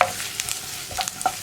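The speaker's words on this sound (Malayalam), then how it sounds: "ഇനി ഇതും കൂടി ചേർത്ത് ഈ ഒരു ജിഞ്ചർ ഗാർലിക് പേസ്റ്റിൻ്റെ റോ ടേസ്റ്റ് ഒന്ന് മാറി വരുന്നത് വരെ ഇളക്കി കൊടുക്കുക" Ginger garlic paste frying in a pan for a cauliflower pepper fry, stirred with a few soft scraping strokes over a faint sizzle, short and quiet with no voices.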